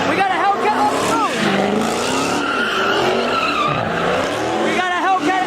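A Dodge Hellcat skids its tires at a Los Angeles street car meet, a loud sustained squeal with engine roar filling the whole stretch, while people shout and talk nearby.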